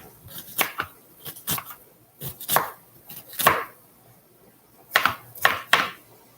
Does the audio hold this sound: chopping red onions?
yes